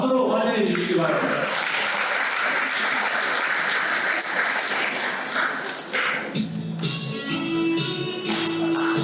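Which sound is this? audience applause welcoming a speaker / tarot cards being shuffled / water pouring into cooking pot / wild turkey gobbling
audience applause welcoming a speaker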